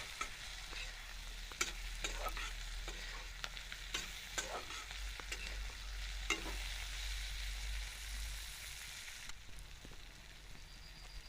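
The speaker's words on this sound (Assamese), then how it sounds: "এতিয়া ইয়াতে কাটি ৰখা বিলাহী দি দিছোঁ আৰু এইখিনি মই গলি যোৱালৈকে ভালদৰে ভাজি থাকিম।" Chopped tomatoes sizzle in a pan of fried spices for a hidol chutney, a soft, steady crackle broken by sharp clicks and scrapes of stirring, fairly quiet and with no voices over it.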